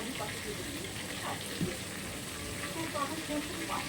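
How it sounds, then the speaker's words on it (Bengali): Magur catfish frying in oil in a wok, a steady broadband sizzle under faint background voice. "দেখেছো, মাছগুলো এভাবে ভেজে নিতে হবে।"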